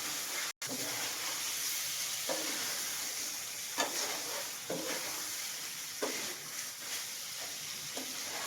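Chicken kosha sizzling in a pan, a steady frying hiss with periodic scraping stirs of the spatula, close and continuous with no talk.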